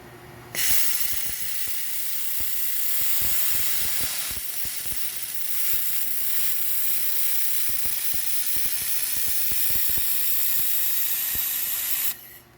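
Laser welding on aluminum pipe, with filler wire fed in to build up deep gouges, gives a steady, loud broadband hiss for about eleven seconds, threaded with rapid irregular crackles and ticks, starting and stopping abruptly.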